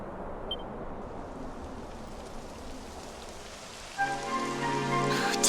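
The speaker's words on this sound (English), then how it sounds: "It would have to go and start raining, wouldn't it?" Rain falls in Dragon Quest XI, a steady soft patter of drops on surfaces that runs evenly and fairly quietly before game music swells in near the end.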